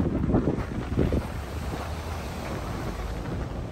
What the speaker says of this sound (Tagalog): Lakas ng alon, may bagyo yata.